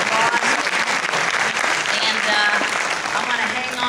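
Students at a high school assembly applauding, a dense burst of close clapping from a crowd that holds steady for a few seconds, with no voices over it.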